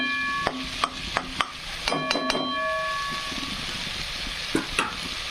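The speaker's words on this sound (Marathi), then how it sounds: "असे छानपैकी मसाले फ्राय होत आहेत तेल सुकत आहे बाजूने" Spices frying and crackling in hot oil for a mutton rassa, a steady close sizzle with several sharp clinks of a spoon stirring against the pan, no talking.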